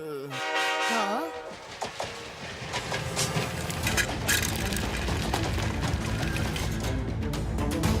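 A train passes close by: sliding horn blasts sound at the start, then the heavy rumble and clatter of the rail cars roars on loudly and steadily to the end.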